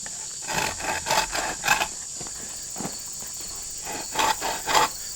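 A hand saw cuts through a piece of 2-inch poplar in a series of rasping push-and-pull strokes, each stroke a short scratchy burst repeating at an uneven pace, close and fairly loud with a steady high hiss behind it.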